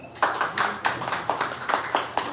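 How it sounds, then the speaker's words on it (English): A small audience at a beauty queen store launch gives a short round of applause, with steady rhythmic clapping pulses, fairly close and clear. "A warm round of applause"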